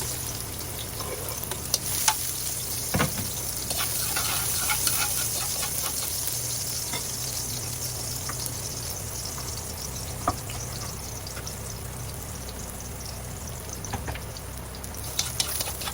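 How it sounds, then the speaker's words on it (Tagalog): Garlic and ginger fry in a hot pan with a steady, close sizzle that runs the whole time, broken by occasional scrape and stir clicks, and no one speaks. "mainit na po ang ating kawali. Maglagay na po tayo ng bawang at luya."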